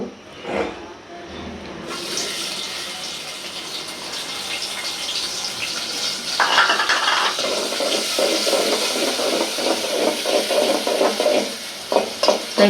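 Onion, garlic and green chili paste fries in oil in a pot for chicken and moong dal, giving a steady close sizzle with bursts of stirring and watery bubbling that grow louder toward the end.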